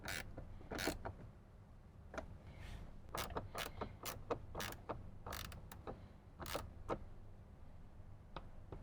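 Factory bolts are tightened to resecure a bracket inside a Toyota Tundra's dash, giving faint, scattered ratchet clicks and metallic creaks at an uneven pace, close by and with no talking.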